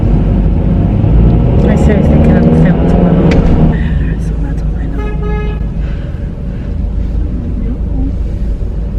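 A car horn toots during an exchange with an angry mother, with steady traffic and engine noise throughout and speech heard over it; the loudest, busiest stretch comes in the first few seconds.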